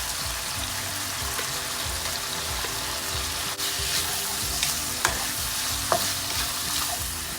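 Instant noodles and prawns being stir-fried in a pan, a steady loud sizzle with scraping stirs and occasional clinks of the utensil against the pan.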